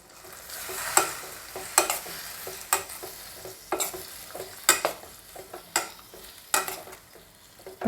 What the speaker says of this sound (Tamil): அதுக்கப்புறம் காரப்பொடி, பெருங்காயத்தூள் போட்டு நல்லா வதக்கி எடுத்துக்கலாம்.